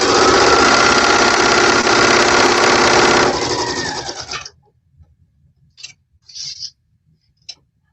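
A sewing machine runs fast and loud for about four seconds, a dense mechanical whir with rapid needle ticking, then winds down and stops, followed by a few faint clicks and rustles.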